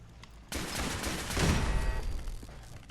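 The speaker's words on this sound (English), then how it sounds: "So I hear another turret." Automatic turret gunfire in Fallout 4 bursts in abruptly and keeps hammering as a loud, sustained volley that peaks midway and then tails off, with no talking.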